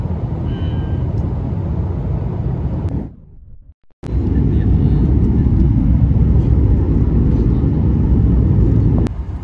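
A plane landing at Chennai airport, heard from inside the cabin as a loud, steady engine roar and rumble that briefly drops out before surging back, with a voice speaking faintly underneath.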